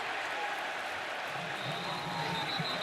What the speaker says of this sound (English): Crowd screaming for his face mask